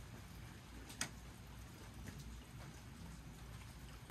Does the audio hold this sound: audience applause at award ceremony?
no